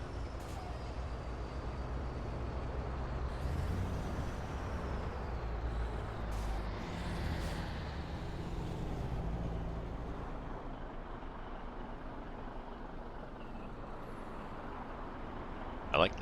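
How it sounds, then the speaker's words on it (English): A heavy truck engine in American Truck Simulator drones at a steady, loud level with deep low rumble throughout, a hiss like an air brake release near the start and a short sharp sound at the end. "I like the sound of the engine on this."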